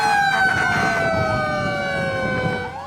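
Sirens from two fire trucks and a rescue vehicle racing in a convoy toward a fire in Tanza, Cavite, loud and close, with several overlapping wailing tones sliding steadily downward over a rumbling road background.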